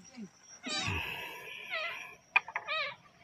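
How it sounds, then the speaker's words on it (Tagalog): A cat meows repeatedly in a rural provincial home in Isabela, Philippines: three drawn-out, wavering cries with short pauses between them, close to the microphone, plus a couple of brief clicks and faint background noise. "Miyaw na miyaw habang nagbablog ako."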